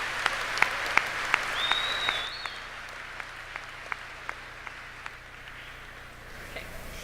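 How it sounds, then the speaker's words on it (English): A high school commencement audience claps for departing teachers with steady, moderately loud applause. A few sharper individual claps stand out, and a brief whistle rises near the start. "I would appreciate it if you would join me in a round of applause for them"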